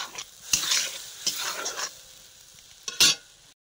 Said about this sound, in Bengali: এখানে দিচ্ছি জিরে ধনে লঙ্কা বাটা একসঙ্গে জলে গুলে রেখেছিলাম।